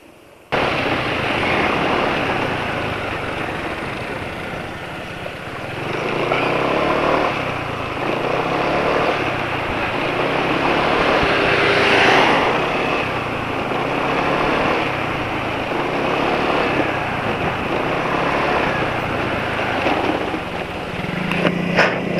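A motorcycle engine running on Gulf Superfleet Special 15W40 oil revs repeatedly, close and loud, its buzzing drone rising and falling in several surges over about twenty seconds with no talk.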